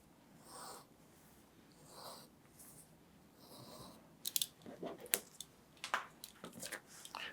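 Paper is trimmed for a homemade notepad with a quiet run of close, crisp snips and crunchy cuts. Faint rustles and breaths come before them.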